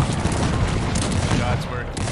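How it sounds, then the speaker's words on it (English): Massed gunfire rattles in the strategy game Cossacks 3, a loud, dense crackle of overlapping musket volleys with a voice talking over it. "Guns firing."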